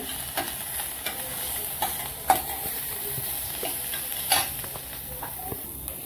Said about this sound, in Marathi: कांदा परतायला टाकला